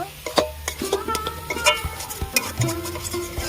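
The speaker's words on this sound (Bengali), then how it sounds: "নারকেলের সঙ্গে ভালো করে নাড়াচাড়া করে মিশিয়ে নেব" Coconut filling for steamed puli pitha is stirred and mixed, giving irregular soft scrapes and knocks with a few sharper taps, close and fairly quiet, with no talking.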